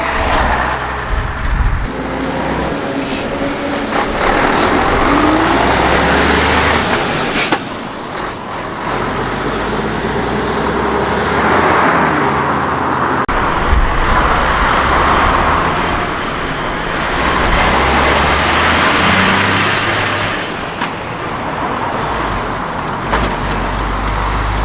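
A vintage ERF truck pulls away at a classic car and vintage truck run, heavy engine revving and gear changes rising and falling over about 25 seconds, with an air brake hiss and other traffic noise around, close and loud.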